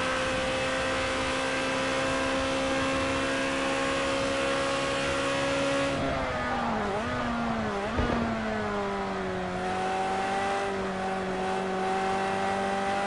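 A Ferrari F355 Challenge engine howls steadily at high revs during a race in Project Cars 2, the pitch dropping and rising again around a corner midway, loud and continuous with no talk.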